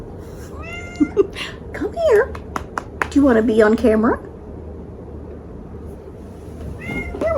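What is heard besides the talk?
pet cat meowing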